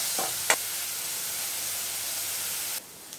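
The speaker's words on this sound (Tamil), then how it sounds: "வெங்காயம் நல்லா கோல்டன் ப்ரௌன் ஆகிற வரைக்கும் நல்லா வதங்கணும்" Onions sizzle steadily in hot oil with added salt, a constant soft frying hiss with a couple of brief stirring clicks early on, stopping abruptly near the end.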